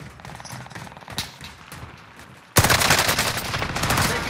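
Rapid automatic gunfire from a Call of Duty: Modern Warfare firefight, starting with scattered shots and faint game sounds, then bursting into sustained loud close fire from about halfway through.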